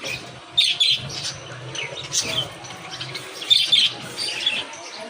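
A caged pet bird squawks and chirps in short, sharp bursts close by, several harsh calls spaced irregularly over a low background hum.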